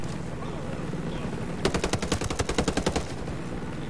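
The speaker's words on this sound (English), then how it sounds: "I don't even know where I'm even getting shot at." Rapid burst of automatic gunfire in Ghost Recon Breakpoint, a dozen or so sharp evenly spaced shots firing close and loud over a steady background of game ambience.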